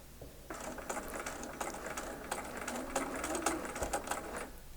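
A sewing machine runs steadily while piecing an eight-point star quilt block, stitching right into a seam corner, with a fast, even needle clatter that holds for several seconds at moderate, close-up level.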